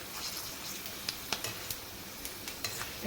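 Continuous hiss of sago and tomato chakri frying in oil with scattered light clinks and taps of a utensil against the pan, no talking.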